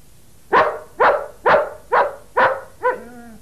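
A dog barks six times in an even rhythm, loud and close, with the last bark trailing into a whiny, yelping tone.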